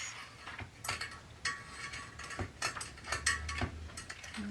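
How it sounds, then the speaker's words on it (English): Faint metallic clinks and scrapes sound in an irregular rhythm as a dog noses around inside a stainless steel bowl, somewhat distant and quiet. "Someone's rooting around in his stainless steel bowl."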